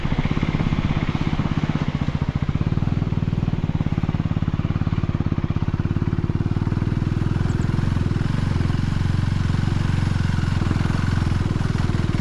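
A motorcycle carries riders along a rural road near Kulekhani and Chitlang, its engine a loud, continuous close rumble with wind noise that holds steady throughout, no voices heard.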